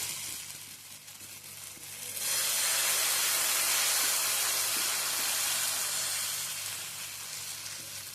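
Ridge gourd dosa batter hits oil on a hot pan, and after a quiet start a loud, close sizzle bursts up and holds steady before easing slightly.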